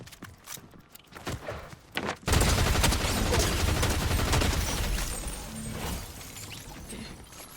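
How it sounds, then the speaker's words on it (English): Fortnite Zero Build gunfire erupts in a sustained, loud burst of rapid shots after a couple of quieter footstep-like taps, continuing for several seconds. "All this gunfire is going to attract other players"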